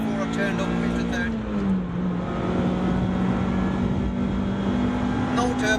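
A Honda Civic Type R pulls in second gear on a national speed limit road, its engine a constant, loud in-cabin drone with a slight pitch wobble and road noise beneath.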